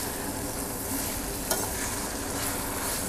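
Red and yellow peppers cooking in a pot for pescado a la Veracruz, a soft steady sizzle with one brief clink partway through, no voices.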